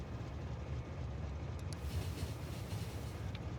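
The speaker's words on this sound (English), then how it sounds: "This is our new steel train." A steel cargo train rumbles along in Factorio, a low continuous mechanical drone at steady moderate volume with faint high clicks over it, no talking.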